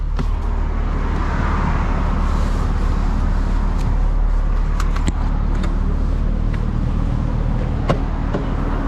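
BMW car lapping a race track on a driving-experience course, a steady loud engine and road drone running throughout at close range with faint clicks and rattles on top.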